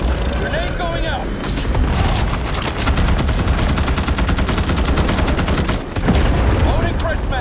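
Dense gunfire with a heavy blast in Starship Troopers: Extermination, a sci-fi shooter game with a base under attack by bugs; sustained automatic fire runs nearly nonstop at close range, with a brief dip near six seconds and a voice faintly present beneath.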